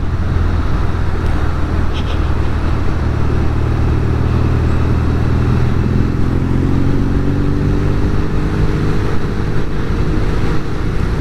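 A classic British Norton Commando motorcycle engine running steadily, a loud, close, continuous throbbing rumble whose pitch rises slightly as it picks up revs partway through.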